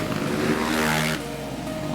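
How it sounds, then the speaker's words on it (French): A supermotard motorcycle racing in a championship final, its engine sputtering and stumbling as it runs out of fuel, a steady raspy drone with uneven pitch under a continuous wash of noise. "Bruno Colonneau a sa moto qui broute et pour cause, c'est la panne d'essence qui lui pend au nez."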